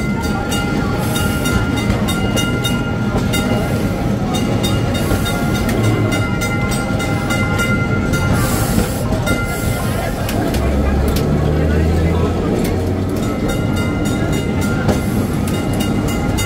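Heritage tram rolling through the old streets of Kolkata past the medical college, a steady loud rumble of wheels on rail with rhythmic clacking, a few squeals and city traffic noise all around, continuous for the whole stretch.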